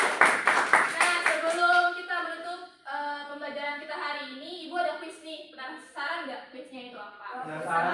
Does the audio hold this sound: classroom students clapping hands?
yes